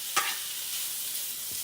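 Bacon sizzles steadily in a hot frying pan with a constant broadband hiss, broken by a sharp clatter near the start as it is dropped in, with no voices.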